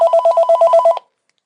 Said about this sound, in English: there's a phone call, but I'm not answering